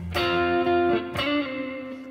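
An electric guitar run through effects plays double stops: two sustained, distorted two-note chords, the second struck about a second after the first, ringing clearly with no voice over them.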